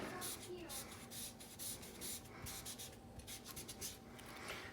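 Graphite pencil shading back and forth across paper for a middle school value drawing, a soft continuous scratchy rubbing in steady strokes up close, with faint background noise from a child's video game in another room.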